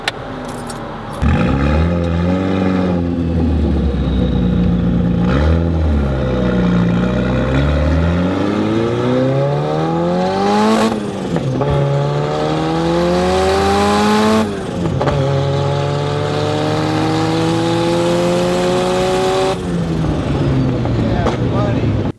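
Turbocharged Datsun 240Z with a Holset turbo pulling hard at wide-open throttle, engine note rising steadily through the revs across several loud pulls, with brief drops between gear changes and after lifting off.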